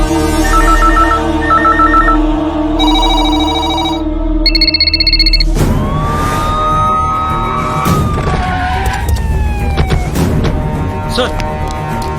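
An electronic telephone ring chirps in repeated bursts for several seconds in a Telugu action film scene, then rising siren-like sweeps and loud dramatic music take over.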